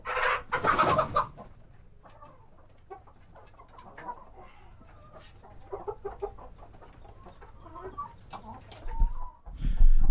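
Hens in a nest give soft, scattered clucks and low murmurs at close range, with a louder burst of squawking near the start and some rustling near the end.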